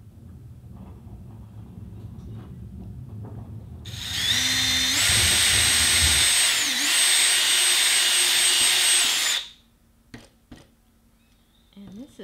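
A loud power drill whirs steadily for about five seconds while building a prop blaster, starting abruptly and cutting off, with quieter knocks and faint voices before and after.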